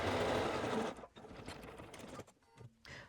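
A sewing machine stitches through layered hoodie fabric, whirring loudly for about a second, then running in short stop-start bursts with brief pauses between.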